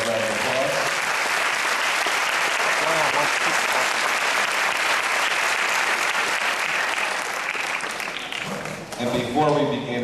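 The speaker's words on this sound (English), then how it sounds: "Please give yourselves a round of applause." A large audience claps loudly and steadily for most of the time, the applause fading near the end as a voice begins to speak.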